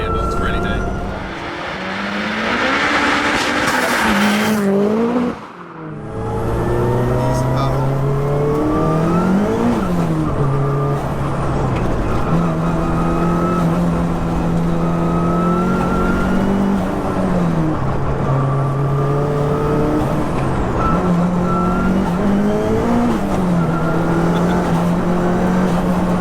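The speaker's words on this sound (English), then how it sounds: "I love the sound of the gearbox, really do." A 522bhp track-prepared Audi A3 1.8T runs loud and close with steady engine drone rising and falling through gear changes, gearbox whine layered on top, and a brief cut near the start.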